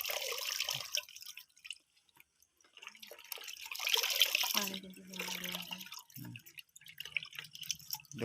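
Water dripping and trickling off washed pumpkin flowers, heard as soft splashy drips in bursts with quiet gaps and a brief clearer run of drops near the middle, with faint voice-like sounds in places.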